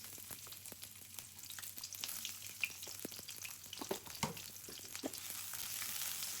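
Sliced onion fries in fresh oil in a home kitchen, a faint, steady sizzle broken by sharp spatula clicks and stirring scrapes, growing slightly fuller toward the end with no voices.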